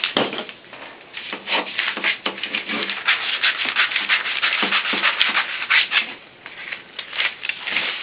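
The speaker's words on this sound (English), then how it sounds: "And then I'm going to cut my piece out." Scissors snipping through folded freezer paper to cut out a doll pants pattern, heard as a close, irregular series of rasping cuts and paper rustles with no talk.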